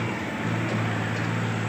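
A tractor engine strains against a stuck rotavator, giving a dense, loud, continuous low rumble that holds steady without a break.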